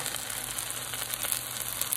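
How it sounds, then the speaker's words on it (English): Butter sizzles and fries in a hot pan of breakfast fried rice, a steady close crackling hiss that runs on without a break and with no voices. "I'm just gonna add a chunk of butter."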